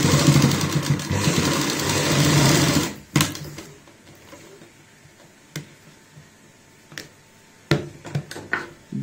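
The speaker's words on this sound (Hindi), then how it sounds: "1/4 इंच का मार्जिन रखते हुए सिलाई लगाएंगे।" A sewing machine stitches a cloth pollution mask with a quarter-inch seam, whirring steadily for about three seconds, then giving a few short, sharp clicks and brief bursts of stitching at close range.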